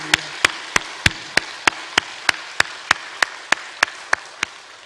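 A church congregation at a Sunday anniversary worship service claps together in unison, a strong, even beat of about three sharp claps per second holding steady throughout.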